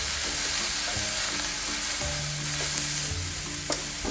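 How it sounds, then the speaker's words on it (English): Peppers and onions sizzle steadily in a pan, with scraping stir strokes and a few light clinks of the utensil, close and without speech. "we're going to cook the peppers and the onions about 8 to 10 minutes, roughly"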